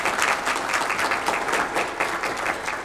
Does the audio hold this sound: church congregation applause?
yes